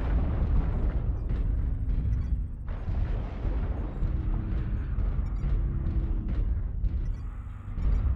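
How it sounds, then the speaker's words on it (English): Artillery strike explosions in the mech combat game MechWarrior Online roll as continuous deep, rumbling booms with overlapping blasts and no voices, loud and sustained for several seconds. "Target acquired. Artillery strike online."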